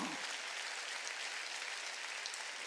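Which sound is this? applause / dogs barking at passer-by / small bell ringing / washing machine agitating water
applause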